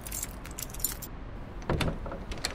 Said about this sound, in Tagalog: May susi ng main door.